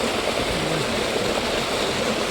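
Water rushes steadily through a field channel on farmland, a continuous close broadband gush with no talking.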